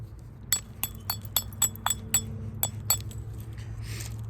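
Flint knapping produces about a dozen sharp, glassy clinks of stone striking stone in an irregular rhythm, close and fairly loud over a low steady hum in the background.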